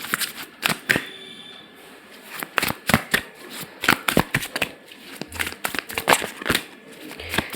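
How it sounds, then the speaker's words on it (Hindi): Tarot cards shuffled close up, crisp rapid riffles and slaps arriving in irregular bursts with short pauses between, fairly loud with no speech. "पहले मैं कार्ड्स निकाल लेती हूँ"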